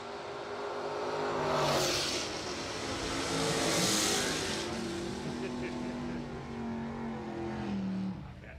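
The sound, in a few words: big-block Super Sport Chevelle drag racing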